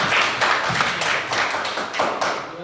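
Classroom applause from a group of students after a discussion presentation, a few seconds of steady, fairly close clapping with rhythmic bursts.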